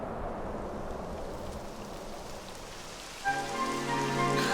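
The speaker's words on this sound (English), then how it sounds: "It would have to go and start raining, wouldn't it?" Rain starting to fall in the video game Dragon Quest, a steady hiss of rainfall on surfaces, with tonal game music entering partway through.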